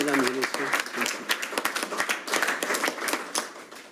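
Applause from the audience at a Haut-Rhin departmental council plenary session follows a speech, with uneven, pulsing clapping that rises and dips while a voice speaks over it near the start.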